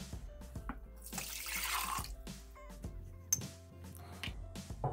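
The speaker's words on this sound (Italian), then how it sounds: "Mettere nel boccale l'acqua" Water is poured into a Thermomix mixing bowl as a splashing rush of about a second, framed by light clinks and knocks of kitchen handling. The pour is close, with no talking.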